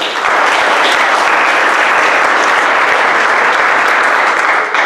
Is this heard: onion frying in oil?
no